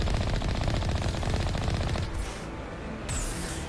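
A rocket turret in Mass Effect fires rapidly and continuously for about two seconds, loud and near, then stops, leaving a brief lull before another rush of noise.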